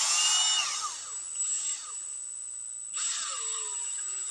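A power drill whines up and slows as it drives a screw into the plastic housing of a Poulan chainsaw, stops, then spins up again with a descending pitch.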